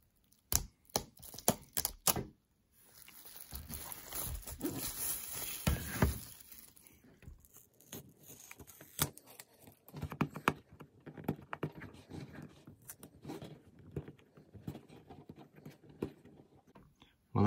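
A knife cuts and scrapes at the plastic wrapping of an original Halo CE game package, giving close, irregular scratches, crinkles and taps in uneven bursts separated by short quiet gaps.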